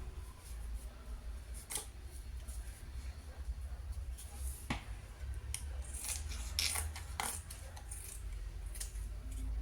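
Scissors cut out a felt Santa hat piece for a Christmas garland, giving close snipping and rustling cuts at an irregular pace over a low steady background hum.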